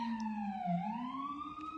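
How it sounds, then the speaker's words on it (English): An ambulance siren wails steadily outside, its tone sliding down and back up as it passes, loud and continuous with no voices over it. "Ambulance."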